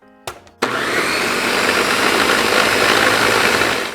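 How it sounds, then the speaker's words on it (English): A few brief clicks and a short whir, then a blender blending herb salad dressing roars continuously at full speed, loud and steady with a rough grinding texture. "I stop my blender halfway through"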